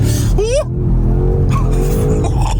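A V8 car in rear-wheel drive mode accelerates hard with a loud, close engine roar, and its pitch climbs sharply before dropping back and holding at a throaty drone.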